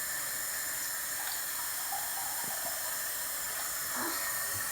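A kitchen tap runs steadily while water is measured for chocolate brownie batter, a continuous hissing flow throughout with faint clinks in the background.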